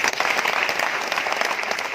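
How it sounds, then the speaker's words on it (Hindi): An audience at a business gathering claps steadily and densely for a couple of seconds, a continuous wash of many hands with no voices over it. "एक बार तालियां किशोर भाई के लिए"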